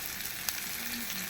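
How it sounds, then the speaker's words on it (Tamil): Fish frying in oil on a hot dosa pan, a constant close hiss of sizzling oil with a faint tick partway through, quiet and even. "எண்ணெய் ஊற்றி அப்படியே மீன் அப்படியே வச்சுருவோம்"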